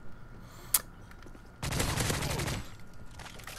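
Gunfire in Call of Duty: Modern Warfare 3 online play, one sharp crack followed by a loud, sustained burst of automatic fire lasting about a second, then quieter background game noise.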